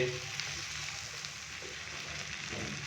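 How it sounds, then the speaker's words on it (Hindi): Potatoes frying in a pan over a medium-low flame, giving a steady, even sizzle with a soft crackle throughout, fairly close and moderately quiet, with no talking. "आलूओं को हम तकरीबन 3 से 4 मिनट के लिए फ्राई करेंगे मीडियम से लो फ्लेम पे"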